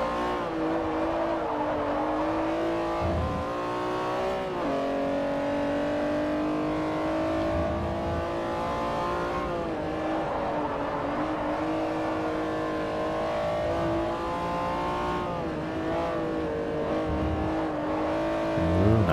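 A rear-wheel-drive Asian coupe races around a circuit in Forza Motorsport 4, its engine droning steadily and loudly, pitch rising through the gears and dropping sharply on shifts and braking, with no other sounds over it.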